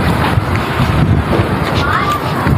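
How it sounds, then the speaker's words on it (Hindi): Strong wind buffeting the microphone outdoors during a storm, a loud, steady roar with gusty rumble, and a voice speaking over it. "तेज हवा चल रही है, बहुत तेज हवा चल रही है।"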